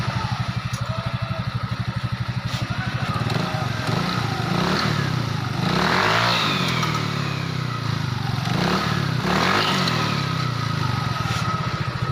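A Yamaha Mio i 125 scooter fitted with a new Makoto pulley runs steadily close by, its engine swelling into a couple of revs over the idle, with no voices.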